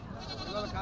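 Goats bleat at a goat and sheep market in Galiveedu, a short wavering cry heard near and mixed with people talking over the crowd noise.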